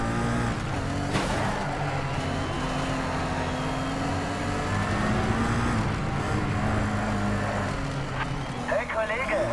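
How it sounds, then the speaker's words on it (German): A race car's engine drones continuously in Race Driver GRID, a dull, muffled motor note with tire squeal and other cars passing, under steady commentary. "der Motorsound klingt ein bisschen dumpf bei dem"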